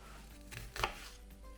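A kitchen knife slices through potatoes on a board for patatas bravas, a couple of soft cuts building to one sharper, crisper stroke near the end, close and fairly quiet with no talking.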